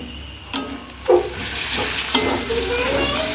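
Ginger and garlic sizzle in hot oil in a pan for a meat khichuri, with a steady frying hiss and a few scraping stirs and clinks of a spoon against the pan, close and moderately loud.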